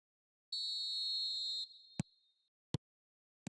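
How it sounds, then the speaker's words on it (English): A referee's whistle in the mobile football game eFootball Mobile, one long shrill blast of about a second that fades out, followed by three short, sharp clicks. "There's the whistle."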